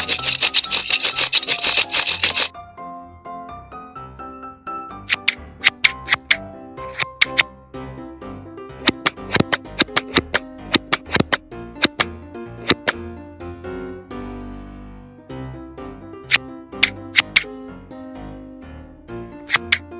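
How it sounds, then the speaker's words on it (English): Tiny scissors snip and scrape as a small fish is scaled and cleaned in a miniature kitchen, giving sharp, irregular clicks and crisp cuts with short pauses between them, loud and close. "Scale and clean fish with small scissors."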